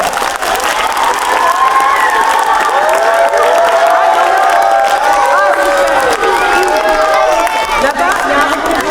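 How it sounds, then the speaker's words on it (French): Audience applause with cheering and shouting voices fills a cinema during a ciné-concert at the Forum des images in Paris. It is loud, dense and steady, with raised voices layered over the clapping throughout. "moi je voudrais qu'on les applaudisse aussi"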